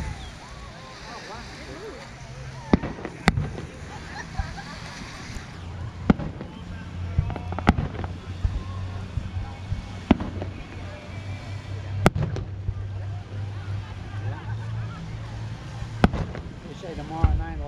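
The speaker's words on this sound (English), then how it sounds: "Oh, there's some fireworks going off down there." Distant fireworks pop at irregular intervals, sharp isolated bangs spaced a few seconds apart over a steady outdoor rumble of wind and water, with faint voices in the background.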